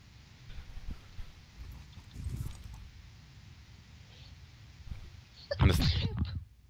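A single sharp sneeze bursts out near the end, loud and close, after quieter low thumps and faint murmuring in the background.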